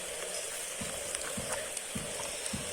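Rain falling on a village pond during a rainy day, a steady hiss of drops with soft, irregular splashes close by.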